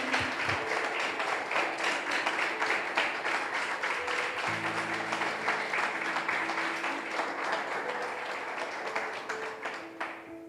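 A church congregation gives loud, sustained applause during a service, with dense clapping that stays steady throughout, backed by a low held musical tone.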